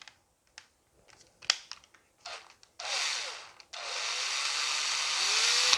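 Electric drill boring into wood while a heated chicken waterer is built, with scattered clicks and handling knocks before two sustained whirring bursts, the second running steadily to the end, fairly close and moderately loud.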